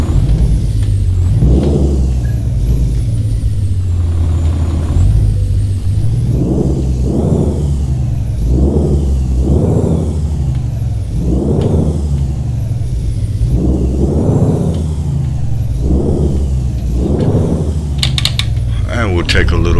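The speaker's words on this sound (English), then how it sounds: "we'll start up the truck so you can hear it" Loud truck engine idling, then revving in repeated swells and drops, a deep steady rumble with rising and falling whine, from American Truck Simulator.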